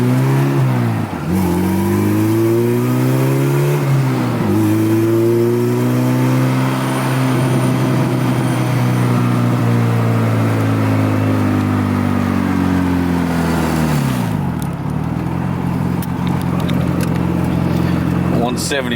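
Turbocharged B20 VTEC engine in a Honda Del Sol revving hard while driving, pitch climbing and falling through repeated pulls and shifts, loud and close from inside the car, with people talking over it.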